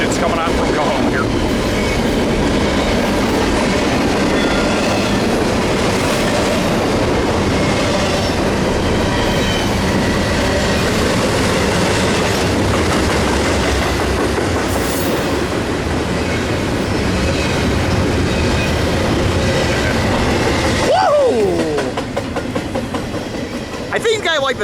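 Train hauled by three locomotives rolling past at Fullerton, a loud, steady roar of engines and wheels with clattering rail noise, ending with wheel squeal.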